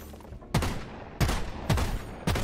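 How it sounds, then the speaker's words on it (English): Gunfire from a machine gun in a video game comes in four short bursts spaced roughly half a second apart, loud and close over a steady background hum. "You can mine with your machine gun?"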